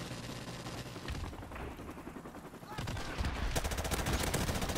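Gunfire in Modern Warfare Remastered shooting through a wall, a rapid stream of sharp shots that thickens into a dense, loud automatic burst toward the end, with faint game noise underneath.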